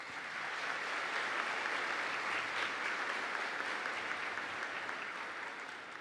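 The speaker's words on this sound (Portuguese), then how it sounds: "uma salva de palmas" Quiet, distant applause fills a church during a Mass as the baptism catechists stand, an even wash of many hands that holds steady throughout with no voices over it.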